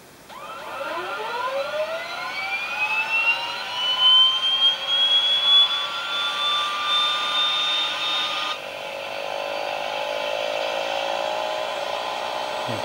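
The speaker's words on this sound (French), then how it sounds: "je vais pouvoir démarrer mes moteurs" Jet engines spool up one after the other in a home-built professional flight simulator, a rising turbine whine climbing in pitch and settling into a steady loud hum, with a second engine joining partway through.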